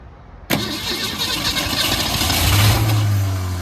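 A 46-year-old Ford Falcon engine, left sitting for decades on an original carburetor, starts with a sudden loud catch after a brief quiet moment, then settles into a steady, rough running roar with a low droning hum building near the end.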